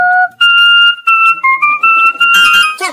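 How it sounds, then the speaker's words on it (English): An ocarina plays the opening of a song, pure whistling tones rising and stepping between held notes, close and clear with no talking. "Ocarina."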